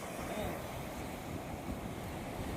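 Steady, continuous roar of sea waves washing on the shore beside a Dutch-era sea fort, with wind rushing across the microphone and no break in the noise.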